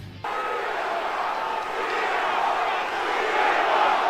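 A wrestling crowd chants "CM Punk" in a dense, unbroken roar that swells slightly toward the end, after a short quiet start.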